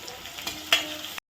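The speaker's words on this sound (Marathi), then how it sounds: "छान कडक फोडणी करून घ्यायची." A hot oil tempering of curry leaves, green chillies, crushed garlic and cumin crackles and sizzles close up for about a second, with a sharp spatter midway before it cuts off abruptly.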